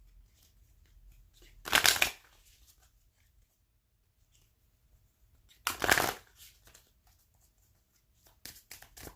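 Oracle cards shuffled in two short, close bursts of riffling paper, each lasting about half a second and separated by a few seconds of near silence, with faint softer handling near the end.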